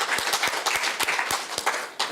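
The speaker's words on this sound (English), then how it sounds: "let's give him a round of applause" Audience applause for a conference speaker, a brief burst of many hands clapping in a moderately sized hall, steady and fairly close.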